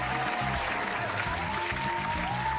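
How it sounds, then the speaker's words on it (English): Applause sound effect rings out steadily and loudly for the whole stretch, a dense continuous wash of clapping with no talk over it. "Applause is mandatory."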